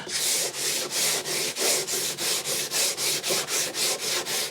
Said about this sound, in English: I'll longboard this with both 40 and then 80 grit.